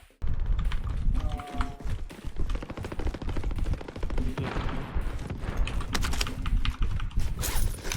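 Rapid, dense clacking of keyboard keys with scattered sharper mouse clicks, continuous and close, with faint voices and Call of Duty Warzone game sounds underneath.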